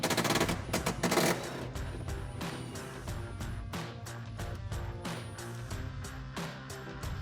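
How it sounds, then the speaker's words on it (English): An impact gun with an extension and a 13mm socket removes a bolt during a coil spring suspension lift on a Jeep Wrangler JL. It gives a loud rapid hammering burst at the start, then a sustained rattling whir, close by, with no talk. "We got the extension on the impact gun here and a 13mm socket to drop that out."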